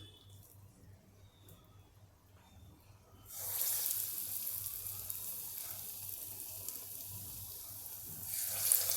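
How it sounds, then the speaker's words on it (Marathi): Lentil vadas for Madhya Pradesh style pani vada dropped into hot oil: quiet room tone gives way a few seconds in to a loud, steady frying sizzle that continues to the end. "तेलामध्ये आपण हे वडे सोडून घेणार आहोत"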